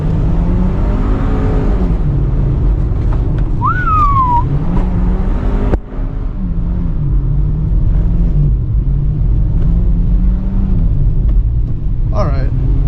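An open-differential car drifts with its engine droning and its pitch rising and falling as one wheel spins and peels out, a loud, close roar heard beneath talking.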